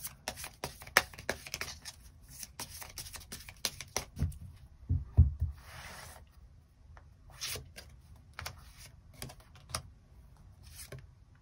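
Tarot cards handled on a table, a run of quick papery flicks, slides and taps in irregular bursts, close and fairly quiet, with no voice over them.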